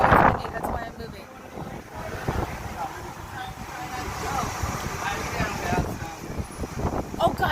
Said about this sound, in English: I know it's windy, that's why I'm moving.